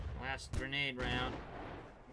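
Grenade launcher firing in the 2005 PC shooter Delta Force Xtreme, a couple of sharp, loud blasts in quick succession with a booming tail, heard close up.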